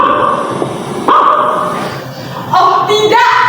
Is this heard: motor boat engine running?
no